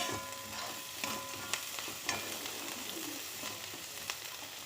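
Chopped onions sautéing with salt in a pan for rava semiya kichadi, giving a steady soft sizzle with a few sharper clicks of stirring throughout, fairly quiet and with no voices.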